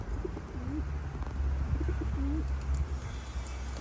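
Young racing pigeons cooing at their loft, with several soft, rolling coos in two short groups over a low, steady background rumble.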